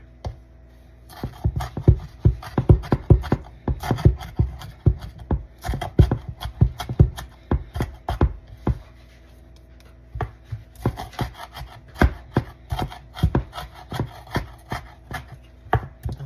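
Onions being cut with a knife on a board: a dense run of sharp, close chopping taps in quick irregular bursts, with a brief pause near the middle before the chopping resumes.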